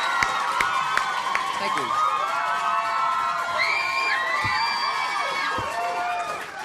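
A comedy festival audience in Melbourne claps and cheers for a stand-up comedian, lively crowd applause with whoops and shouts, and the performer briefly speaks over the noise.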